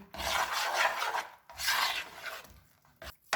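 Close, gritty scraping of a spoon stirring thick egg and semolina halwa with raisins and almonds in a pan, two longer strokes followed by short scrapes.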